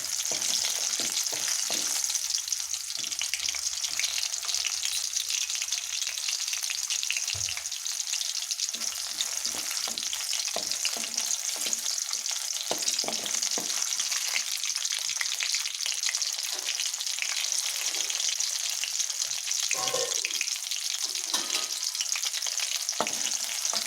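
Onions frying in a pan while being stirred for a dried anchovy (nethili karuvadu) kuzhambu: a continuous bright sizzle with intermittent scraping and stirring knocks, close and steady, with no talking.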